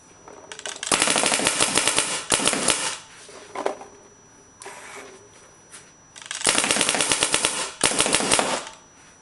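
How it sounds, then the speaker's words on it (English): Clone gel blaster toy gun firing in rapid bursts, a sharp, loud mechanical rattle of quick shots in several long strings separated by short pauses. "it shoots even smoother than the droid I didn't believe it but it does so I'm shooting"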